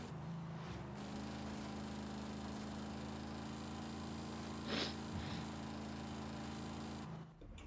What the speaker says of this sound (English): The engine noise doesn't feel fast at all.